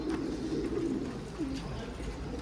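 Soft, low cooing of domestic pigeons runs through the clip, a few rolling coos over a steady background hum, with no voices.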